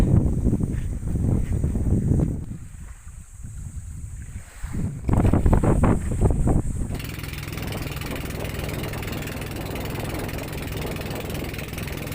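A boat's engine rumbles while wind buffets the microphone on a ride around Buyayaw Island, Bulalacao, Oriental Mindoro, and the roar settles into a steady rushing hiss of wind and water.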